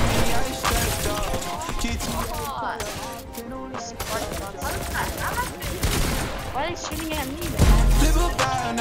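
Rapid gunfire in the GTA video game crackles in bursts beneath loud rap music with a singing voice throughout.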